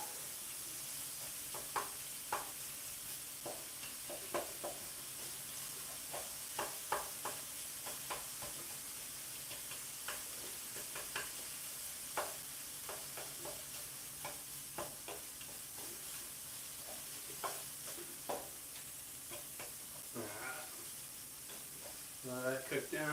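Sausage and potatoes fry in an electric skillet in a hotel room, a steady soft sizzle broken by scattered clicks and scrapes of stirring, with a brief voice near the end.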